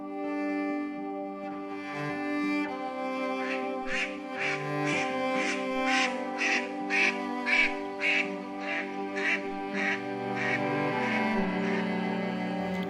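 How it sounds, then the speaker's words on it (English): A swan gives a run of honking, nasal calls. About a dozen rhythmic notes rise over a steady tonal background, fairly loud and close, with no voices. "swan,"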